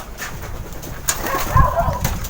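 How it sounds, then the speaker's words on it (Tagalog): Racing pigeons back at the loft after a training toss give soft cooing calls amid wing flutters and scuffling, with a louder burst partway through and a faint dog bark somewhere in the background. "so nandito na yung mga ibon natin"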